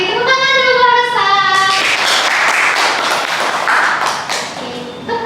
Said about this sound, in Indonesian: Oke, tepuk tangan dulu Rasa.